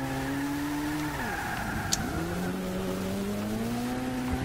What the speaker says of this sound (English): I'm just kind of bouncing off the rev limiter.